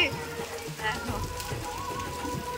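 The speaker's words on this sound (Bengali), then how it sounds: "এদিকে বৃষ্টি শুরু হয়ে গেছে।" Steady rain patters across a surface during a Janmashtami puja, a broad, even hiss continuing throughout with faint voices in the background.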